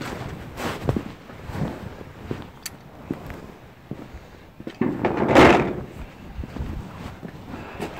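Metallic clicks, knocks and rattles from a door handle being worked free of a Chevrolet C10 truck door during teardown for paint, with scattered taps and a louder clunk midway.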